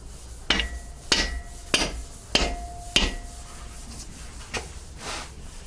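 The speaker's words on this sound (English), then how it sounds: "then carefully tap the cap down with a hammer" A hammer taps a main bearing cap down onto a GM 3800 Series 2 engine block. Five crisp, evenly spaced metallic knocks ring close to the microphone, followed by two softer taps.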